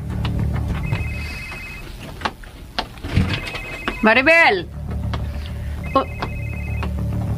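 A cellphone rings on a bed in a room, its repeating electronic tone pattern sounding several times at moderate loudness under and between a person calling out and talking in a radio drama scene.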